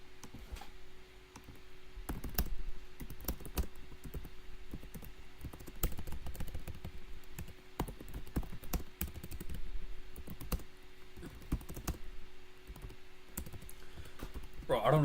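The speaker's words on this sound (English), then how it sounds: "I don't like typing" Someone types on a computer keyboard in a quiet room, with quick, irregular key clicks in bursts throughout. A person talks now and then beneath the typing.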